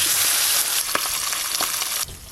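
Pieces of hilsa fish fry in well-heated oil with a dense, loud sizzle and a few crackling spikes, and the hiss drops abruptly near the end.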